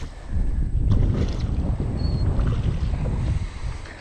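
Strong wind buffets a new fishing boat near islands, producing a loud, continuous low roar of wind noise with no speech.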